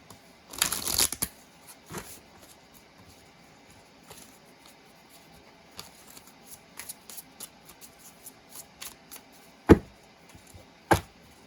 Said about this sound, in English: I'm going to shuffle these and do another reading.